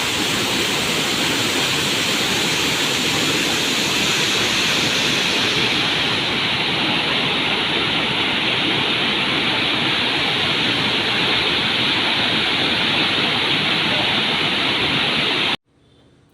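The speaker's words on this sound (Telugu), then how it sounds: "చూసారు కదా ఫ్రెండ్స్ ఇదే మన మినీ వాటర్ ఫాల్స్" A steady, loud rush of falling water at Minumuluru Waterfalls near Araku roars without pause close by, a dense broadband hiss that cuts off abruptly at the end.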